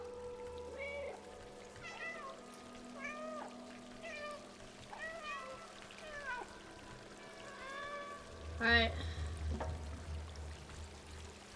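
A black cat in the video game Stray meows repeatedly in short, rising cries spread across the clip, moderately close, over a faint background hum and a brief splashy burst.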